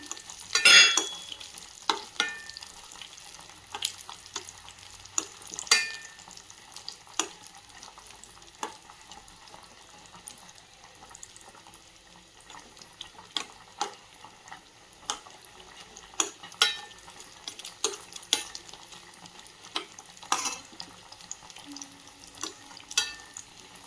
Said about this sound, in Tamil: ரெண்டையும் பொன்னிறமாக ஆகிற வரைக்கும் வறுத்து எடுத்துக்கலாம்.